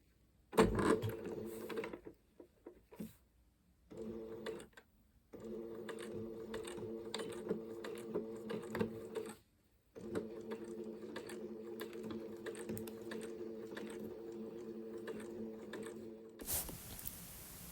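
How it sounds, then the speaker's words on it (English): Sewing machine running a basic stitch to finish folded fabric edges, a steady close mechanical hum in several long runs separated by short pauses. "I'm just finishing the edges of the pieces with a machine. I'm just folding the fabric over, doing a basic machine running stitch."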